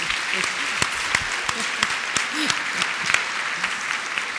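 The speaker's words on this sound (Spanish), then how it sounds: "Yo creo que le daría nuevamente un fuerte aplauso a Evelyn." An audience applauds a panelist named Evelyn at a public class panel: steady, dense clapping with sharp individual claps standing out throughout, with faint voices underneath.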